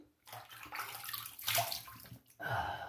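Tap water running and splashing in short bursts while a face is rinsed after a shave with a slant safety razor, close and fairly quiet, with no one speaking.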